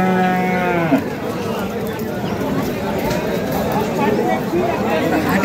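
Qurbani bulls at a cattle market in Dhaka during a light drizzle: a single long, close moo opens the scene, followed by a steady wash of rain and crowd noise with people talking throughout.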